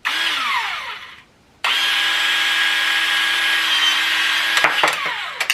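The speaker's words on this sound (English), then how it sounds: "Now you got to cut your pipe, of course. So you're going to take your PEX cutter." A PEX cutter snips through PEX plumbing pipe: a short scraping squeak, a brief pause, then a sustained loud rasping cut ending in a few sharp clicks as the blade closes, close up with no talk.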